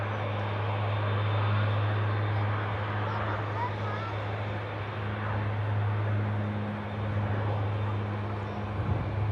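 An Airbus A350-1000 airliner, a six-year-old airframe, approaching to land in its final few hundred feet, a steady loud engine roar with a low hum holding throughout.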